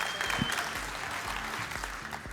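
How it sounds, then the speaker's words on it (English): A room full of people at an AI startup pitch competition applauds steadily, a dense wash of clapping at moderate volume with no voices standing out. "Round of applause."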